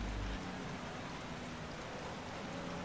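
Steady rain hiss from a sim racing game set at Mid-Ohio in a Formula Renault 3.5 race, a dense, even wash of noise with a low rumble at the very start.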